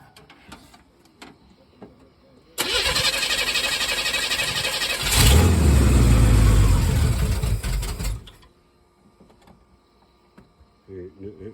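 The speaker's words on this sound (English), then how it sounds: "you're gonna have to give it some gas" A car engine cranks and catches, then runs loud and steady for several seconds, surging into a heavier low revving roar midway before cutting off abruptly into near silence.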